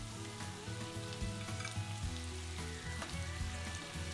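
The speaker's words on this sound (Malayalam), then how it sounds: "ഇനി നമുക്ക് അതിലേക്ക് ചിക്കൻ ചേർത്ത് കൊടുക്കാം." Chicken fries in a pan with sautéed onions and green chillies for tender coconut chicken curry, making a low, steady sizzle and light stirring sounds close by, with no voices.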